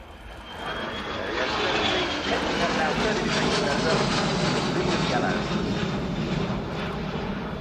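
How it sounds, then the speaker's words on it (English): A DHL Boeing 757-236 Special Freighter flies a display at the RIAT 2012 airshow at Fairford. Its jet engines swell into a loud, continuous roar as it passes, and a commentator talks over the noise. "an excellent sight over Fairford from DHL-Air with their Boeing 757-236 Special Freighter"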